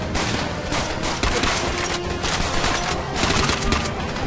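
Heavy continuous gunfire in Call of Duty: World at War with an Axis mod, a loud unbroken fusillade of overlapping shots filling the whole stretch.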